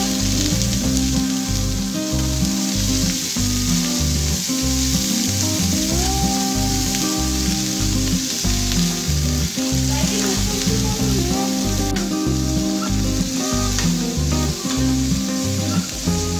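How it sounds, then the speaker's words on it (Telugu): Cabbage pieces and green chillies fry in hot oil for a gongura cabbage chutney, giving a loud, steady sizzle with rhythmic stirring throughout. "పచ్చిమిర్చి ఫ్రై చేసిన తర్వాత క్యాబేజ్ ముక్కలు వేసుకోవాలి."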